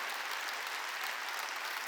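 Congregation at a Sunday worship service at a Korean church applauding, a steady, dense wash of many hands clapping together throughout, without speech.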